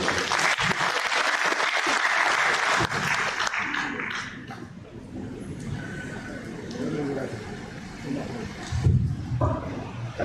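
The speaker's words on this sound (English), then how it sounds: "this round of applause will be for Mr. Singh" Applause rises at a Nigerian Armed Forces Resettlement Centre presentation, a burst of clapping that fades after about four seconds into murmuring voices and low room noise.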